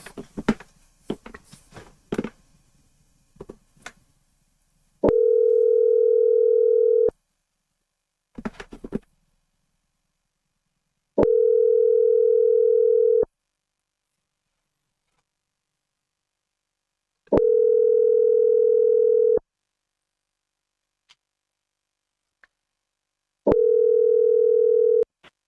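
Steady telephone dial tone while a call is being placed, sounding in four identical bursts of about two seconds each with silent gaps between, loud and alone after some brief handling noise at the start.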